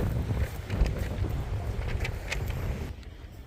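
Strong, cold wind gusting across an open outdoor garden at Longwood Gardens in Pennsylvania, a steady low rumble of buffeting microphone noise that holds nearly throughout before easing at the end.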